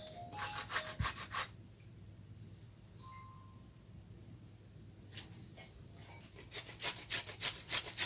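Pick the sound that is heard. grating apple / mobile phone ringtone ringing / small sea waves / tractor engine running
grating apple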